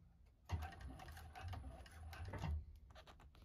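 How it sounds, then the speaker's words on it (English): A sewing machine runs close by top stitching a bag, a quiet rapid mechanical chatter in short bursts with pauses, ending in a few separate ticks. "we can start at the top and top stitch all the way down"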